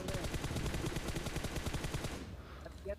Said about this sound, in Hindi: यहाँ पर से वो देखिएगा मुझ पे फायर करने लगेगा